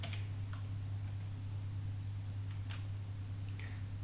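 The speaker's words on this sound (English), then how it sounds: "basically I'm typing through one of the hands, so maybe it will be very slow" One-handed typing on a computer keyboard, a slow, sparse scatter of soft key clicks over a steady low hum, quiet and close.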